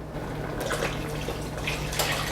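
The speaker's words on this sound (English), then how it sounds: "I'm going to add 2 cups of more water." Water splashes and trickles into a pot of Korean spicy chicken and scallion soup with radish, ginger and chilies, a close, steady liquid pour with small drips and splashes and no voices.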